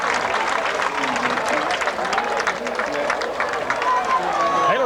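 A high school football crowd in 1987 applauds and cheers as an injured player jogs off the field, a dense steady wash of clapping with a commentator talking over it.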